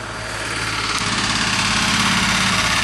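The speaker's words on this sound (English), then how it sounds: "The drilling in the river." Heavy drilling machinery working in a river drones steadily at a distance, a continuous engine-like rumble and hum that holds level throughout with no voices.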